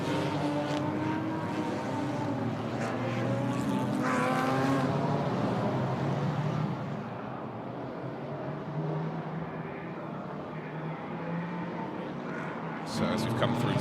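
DTM Trophy race cars run their formation lap at the Nürburgring, with a steady engine drone that shifts in pitch as they pass. A commentator talks over it throughout.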